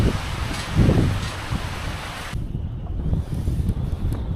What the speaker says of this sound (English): It got super windy out of nowhere.